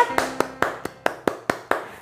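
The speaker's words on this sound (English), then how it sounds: "Then clap." Hands clap eight times in an even, measured rhythm, each clap sharp, close and loud with a brief decay, standing alone without talk.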